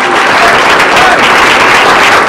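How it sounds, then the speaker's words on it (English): Loud, dense audience applause for Matt Bellina at an ALS event, a continuous close wash of many hands clapping at full strength throughout, with no voices breaking through. "Give a little round of applause for Bellina"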